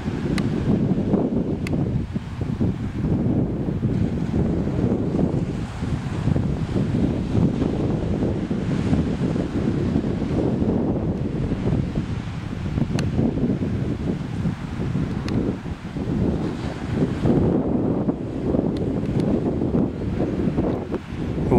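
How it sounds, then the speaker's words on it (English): Strong west wind blowing by calm, glassy water on a fishing outing, a steady loud rumbling buffet on the microphone with gusty swells throughout and no talking. "We do have a hard west wind, so expect some bugs."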